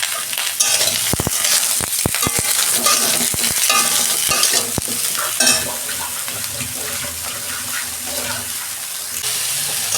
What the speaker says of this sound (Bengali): দু মিনিট ভেজে নেব।